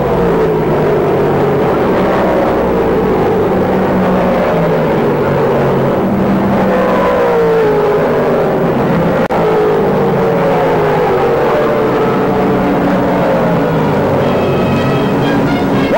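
Several 1968 NASCAR Grand Touring stock cars, among them a Dodge Dart, roar around the track, their loud engines rising and falling in pitch as they pass and jostle, with no voices over the din.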